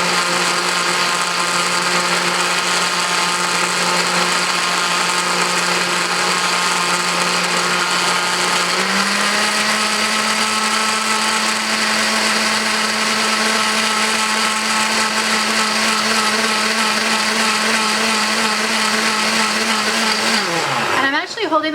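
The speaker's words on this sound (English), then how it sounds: "I'm going to beat it one more time, blend it one more time" Electric blender whipping a homemade vegan face cream, a loud continuous motor whir that holds steady for about twenty seconds, shifts pitch slightly midway, then winds down as it switches off.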